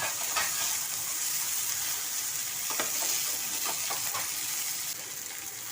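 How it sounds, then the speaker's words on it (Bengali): Colocasia leaves fry in hot oil while being turned over, giving a steady, close sizzle with a few sharp crackles and spatters. No one talks. "বন্ধুরা, এইভাবে উল্টে পাল্টে ভেজে নেব।"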